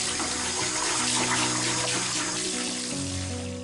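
Tap water runs steadily into and over a plastic vacuum cleaner dustbin as it is rinsed, a continuous close splashing gush with shifting tone as the bin moves under the stream.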